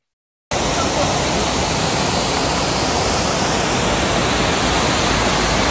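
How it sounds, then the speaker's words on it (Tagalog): A waterfall beside Cannon Road on the way to Baguio roars as a loud, dense, unbroken rush of water that starts abruptly and stays constant and close throughout. "makakakita kayo ng maraming falls na kagaya nito"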